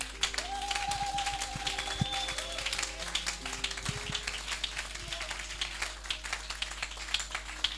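A church congregation in Lubumbashi at a New Year's Eve service, applauding in a loose mid-distance patter of claps, with brief tones and scattered voices mixed in.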